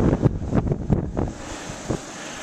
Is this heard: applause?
no